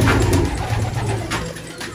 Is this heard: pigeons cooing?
yes